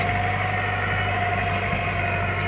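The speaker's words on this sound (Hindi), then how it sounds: "अरे देखो टीलर" A Mahindra 575 DI XP tractor runs a rotary tiller in first gear, its steady loud engine drone holding close and constant over a low rumble.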